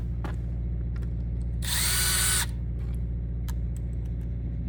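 A power drill drives machine screws into an RV cabinet in one loud whir of about a second, over a steady low mechanical hum, with small clicks and taps before and after.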